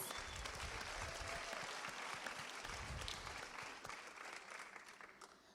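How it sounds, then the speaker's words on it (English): A crowd at a student scholarship award ceremony gives sustained, dense applause throughout, full and close, easing off slightly toward the end. "One last round of applause."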